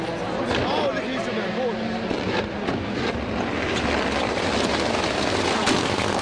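A black Ford Escort Cosworth rally car in Hertz livery blasts through a gap, its engine a loud, continuous, rasping roar that fills the whole stretch, with crowd noise mixed in.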